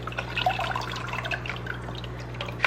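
Filter sponges from a Fluval 307 canister filter are rinsed in aquarium tank water, with close, quiet drips and small splashes scattered over a faint steady hum.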